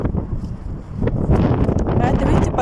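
Strong gusting wind buffets the microphone outdoors on a hot day, a continuous loud rumbling roar with people talking over it.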